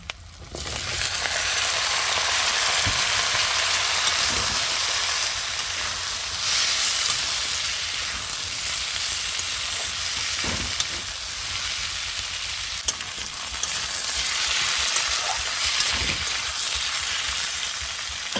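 Steady, dense sizzle of potatoes and onions frying in oil, with occasional scraping stirs and light clatter, close and continuous throughout with no voices.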